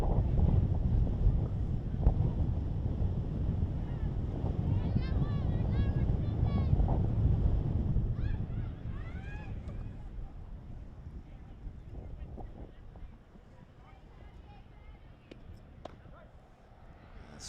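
Wind gusting across an outdoor girls' varsity softball field on a cold day, a continuous low roar buffeting the microphone that eases after several seconds, with faint distant voices over it.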